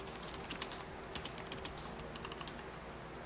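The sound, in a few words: typing a password on a computer keyboard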